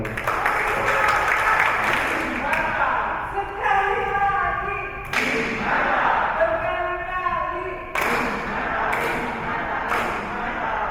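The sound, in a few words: applause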